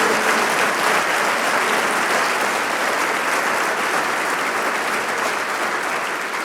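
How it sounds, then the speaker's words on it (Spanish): A church congregation applauds, a dense, sustained clapping that holds steady for several seconds and tapers slightly at the end, filling the room. "¿Usted le puede dar un aplauso a Jesús por lo que Él ha hecho por nosotros?"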